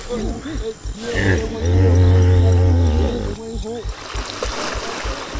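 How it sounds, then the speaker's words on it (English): Hippos grunting and bellowing in a deep, rumbling roar that swells and holds for a couple of seconds, loud and fairly close, with water and outdoor ambience around and someone talking. "used to sounds of hippos, like you can hear them behind me right now."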